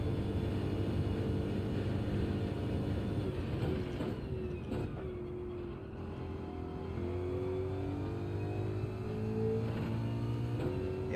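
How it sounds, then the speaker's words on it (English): Ford Mustang race car in an endurance racing game, its engine droning steadily, then dipping with a gear change and climbing again in rising pitch, loud and continuous without talk. "we got the Ford Mustang, and it was chosen at random, so it was not my choice"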